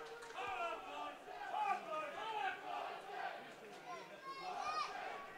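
Football supporters at a Blyth Spartans match against Morpeth chant and shout to urge on their team despite trailing 2-0, a faint, distant wash of voices with rising calls.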